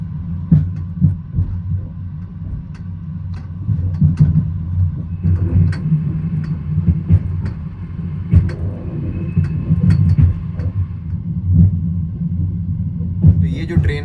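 A Spanish-built passenger train runs from Tashkent to Almaty, a steady low rumble and rhythmic throbbing from inside the carriage, with muffled voices and brief clicks over it.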